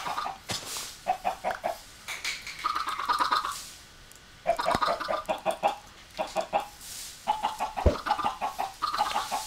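Minecraft chickens clucking repeatedly in a game coop, bursts of close, fairly loud clucks and squawks with brief pauses between groups, no talking.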